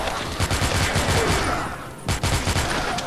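Rapid gunfire from a close-range weapon in a zombie shooter game for Android, loud repeated shots in a dense burst with a brief lull near the middle before firing resumes.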